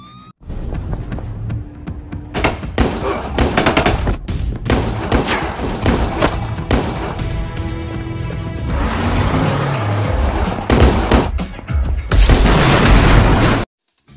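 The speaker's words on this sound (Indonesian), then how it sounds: "dan gudang meledak" Warehouse blowing up in the action film Renegades, a chaotic series of heavy booms, crashes and debris impacts over about thirteen seconds, loud and dense with a final powerful blast near the end.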